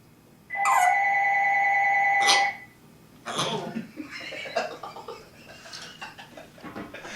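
Parrot imitating a ringing telephone with an electronic-sounding double trill, one burst lasting nearly two seconds, followed by people talking and laughing nearby.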